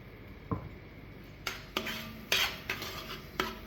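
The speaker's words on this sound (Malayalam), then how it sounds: "ഇനി നമുക്ക് ഈ നെയ്യിൽ കിടന്ന് ഈന്തപ്പഴം നല്ലപോലെ ഒന്ന് വഴറ്റിയെടുക്കാം" Dates being sautéed in ghee in a pan, heard as a few sharp, close clinks and scrapes of a spoon against the pan over a faint background hiss.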